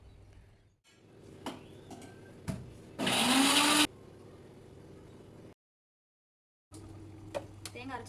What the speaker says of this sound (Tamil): இப்போ வந்து தேங்காய் கொஞ்சம் அரைச்சி ஊற்றிடலாம்.